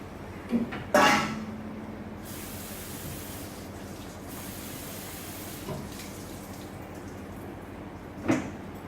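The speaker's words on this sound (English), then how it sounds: "So I'm going to give it a rinse." Water runs and splashes as fruit and vegetables are rinsed in a container, a faint steady trickle broken by a few louder splashes and container knocks near the start and end.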